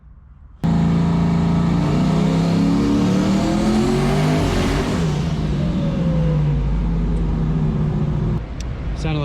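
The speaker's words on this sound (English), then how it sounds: "Sounded like it started misfiring." A 1000-horsepower Foxbody engine revs loud and close, its pitch climbing and falling through sustained, rough-edged harmonics before the note cuts off near the end.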